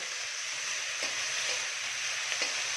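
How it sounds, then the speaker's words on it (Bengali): Chopped ginger sizzles in a frying pan for catfish bhurji with a steady hiss, while a utensil gives a couple of faint scraping strokes through it. "কুচনো আদা, দিয়ে এটাকে ভালো করে নাড়ব।"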